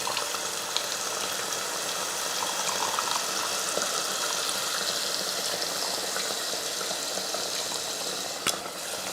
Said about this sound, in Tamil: இந்த டைமில் நம்ம புளியை கரைச்சி ஊற்றிக்கலாம்